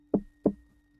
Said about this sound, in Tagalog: May kumakatok sa loob ng bahay. Mula sa likod niya, sa mismong pintuan ng kwarto.